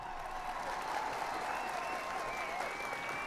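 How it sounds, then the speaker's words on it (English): Round of applause from a small audience, steady clapping at a moderate distance holding evenly throughout without a break. "Round of applause."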